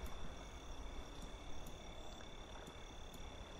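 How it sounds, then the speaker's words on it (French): Crickets chirp at nightfall beside the water on open plains in Switzerland, forming a steady, continuous high chorus that sits faint and unbroken throughout, with no voices. "Ouais, on entend les grillons."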